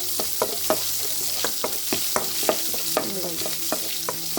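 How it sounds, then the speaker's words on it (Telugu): Tempering spices sizzle and crackle in hot oil, with a steady frying hiss broken by sharp pops and spatters at irregular intervals, close and fairly loud, with no voices. "తాలింపు వేసుకుంటున్నాను"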